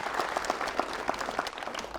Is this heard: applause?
yes